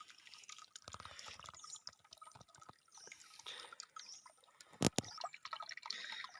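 Water flowing and dripping at a Thai waterfall viewpoint, a steady wet trickle under faint ambient noise, with a brief louder splash partway through.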